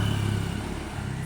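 Scooter approaching at speed, a steady droning engine hum with rattling undertone, moderately loud throughout the short stretch.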